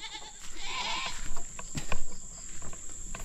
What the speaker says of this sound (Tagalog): pasok mo na yung kambing